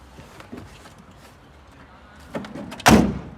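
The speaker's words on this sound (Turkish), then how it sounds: "hemen 3 2 1 kapıyı açıyoruz" A door opening on a newly bought tow truck, heard as a sharp, loud mechanical clunk near the end after quieter handling noises and faint talk.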